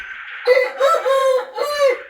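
A quail calls loudly up close in a drawn-out, tonal series of notes, rising and sustained, with no voices over it.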